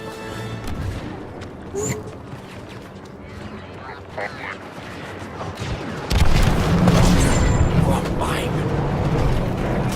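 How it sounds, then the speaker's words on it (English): Multi-troop transport opening fire in Star Wars Battlefront 2 multiplayer: a few scattered booms early, then a loud sustained burst of heavy blaster and artillery fire with rumbling explosions from about halfway on, with game voice lines over it. "Multi-troop transport preparing to fire at the palace."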